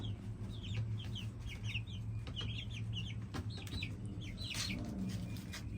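Golden Wyandotte chickens clucking in a backyard: a string of soft, repeated clucks and short calls, faint and somewhat distant over low background hum.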